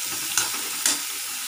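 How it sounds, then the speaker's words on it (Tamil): Chopped tomatoes and onions sautéing in a pan for a thudhuvalai onion chutney, a steady soft sizzle broken by two brief scraping stirs, close and moderately loud with no voices. "இப்போ இதோட கூடவே நம்ம தக்காளியும் சேர்த்துக்கலாம் தக்காளி நல்லா வதங்கட்டும்"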